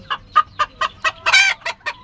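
A Yokohama, a fancy long-tailed chicken breed, clucks close by in a quick series of about eight sharp, evenly spaced calls, one slightly longer and louder near the middle, with no talking.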